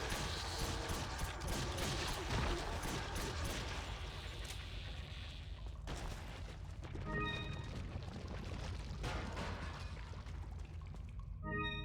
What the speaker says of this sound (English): And pull out the shotgun.